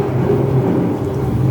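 Rumbling thunder and steady rain from a sound effect in Disney's Carousel of Progress ride at the Magic Kingdom, Walt Disney World, a continuous low roar of storm noise with no voices.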